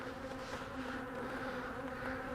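Honey bees in a hive infested with small hive beetle larvae hum in a steady, dense drone, close and continuous throughout.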